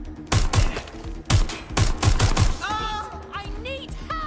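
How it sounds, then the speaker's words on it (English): Burst gunfire from the video game Watch Dogs: Legion, several sharp close shots in quick clusters, then voices chattering briefly over the tail of the fight. "Taking fire."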